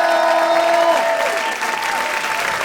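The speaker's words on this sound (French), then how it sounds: "un tonnerre d'applaudissements pour Yacine Bellous" Studio audience applause greets comedian guest Yacine Belhousse at a live French comedy show, steady dense clapping throughout with a tonal music sting fading under it in the first second.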